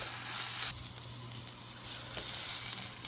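Spice paste fries and sizzles in a pan over a high flame, a soft continuous hiss that rises and falls as it is stirred, with no talking.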